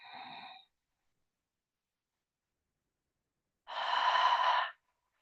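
Deep breathing during a kundalini kriya yoga practice: a short exhale at the start, a long silence, then one loud, close, sustained breath lasting about a second, with no talking.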